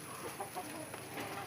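A grey hen clucks in a backyard coop, a few soft, quick clucks close by over faint steady background noise.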